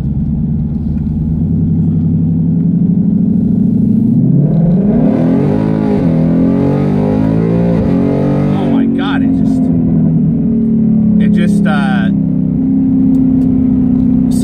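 Engine of a 2018 Ford Mustang GT with an automatic gearbox, accelerating hard on a public road, loud and close with a rising then sustained roar and a shift partway through, while someone talks over it.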